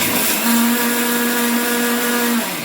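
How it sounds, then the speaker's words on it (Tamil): A mixer grinder whirs steadily as it grinds roasted split gram into powder, a loud continuous motor drone that holds evenly for a few seconds with no voices. "இப்போ உடச்ச கடலையும் அரைச்சிடுவோம்."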